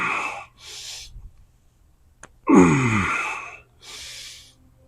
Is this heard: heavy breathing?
yes